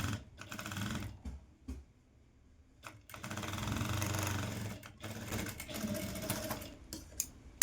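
A sewing machine stitching along a blouse neckline, fast mechanical whirring runs in bursts separated by short pauses, close and loud with no talking.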